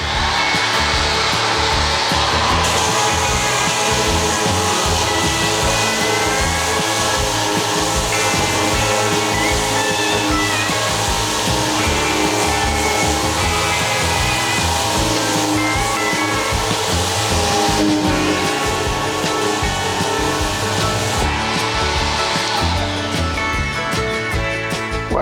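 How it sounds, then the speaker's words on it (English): An orbital sander fitted with a filter runs at speed 1 on tile in a farmhouse bathroom renovation, a continuous loud whirring hiss held steady and close throughout. "I want to just see how it goes with the orbital sander with the filter on it."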